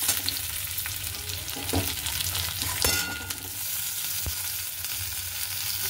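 Chopped tomatoes hit softened frying onions in a pan, giving a loud, continuous sizzle with occasional stirring scrapes and no talking.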